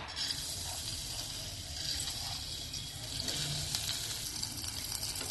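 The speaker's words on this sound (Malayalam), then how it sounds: "നെയ്യ് ചൂടാവുമ്പം എടുത്തു വെച്ച ചെറുപയർ പരിപ്പ് ഇതിലേക്ക് ഇടാം." Soft, steady sizzling of split moong dal frying in ghee, fairly quiet and continuous with occasional faint stirring, no voices.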